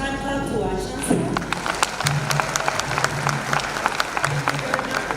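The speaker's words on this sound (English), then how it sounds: "a huge hand clap to our Chancellor" Graduation ceremony crowd at Victoria University applauding the Chancellor, a dense, continuous patter of clapping from a large audience with a few sharper close claps and a faint low hum beneath.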